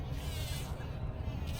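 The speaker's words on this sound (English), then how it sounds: "look, and the bees in there." Bees buzzing among clematis and ranunculus flowers in a college garden, a soft, steady insect hum close by with faint rustle behind it, no talking.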